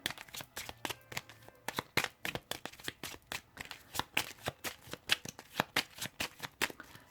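A deck of tarot cards shuffled by hand in a quick, steady rhythm of riffling slaps, close and crisp, with no voices over it.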